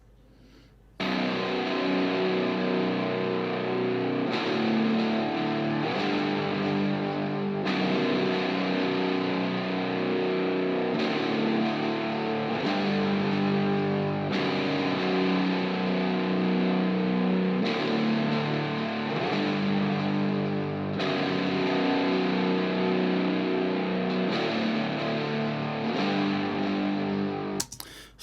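Distorted electric guitar strumming ringing chords, slightly dirty in tone, steady and loud throughout with regular chord changes and no voices over it.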